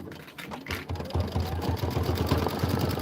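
An embroidery sewing machine stitches a decorative outline, its rapid rhythmic needle chatter running steadily and close, with a voice briefly heard over it.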